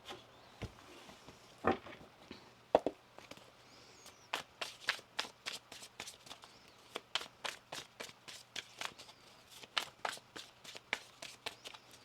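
Cards are shuffled in a series of quick riffling bursts, soft repeated flutters close by with short pauses between, a low hum underneath.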